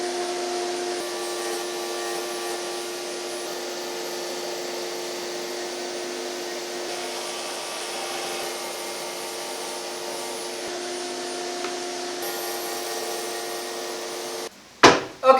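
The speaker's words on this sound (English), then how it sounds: "I cut a slot into each plank with my router" Handheld power router cutting slots into wooden planks, a steady loud whine and rushing hiss held for about fourteen seconds, ending abruptly with a short burst of clatter as the tool is switched off.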